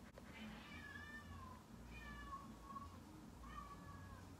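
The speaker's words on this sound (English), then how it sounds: "This is my sister's cat." A house cat meows three times, faint and plaintive, over a low background hum.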